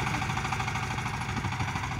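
Tractor engine running steadily in a field during harrowing with a Shifeng 350 tractor, a continuous loud mechanical drone with a rattling, knocking texture and no pauses.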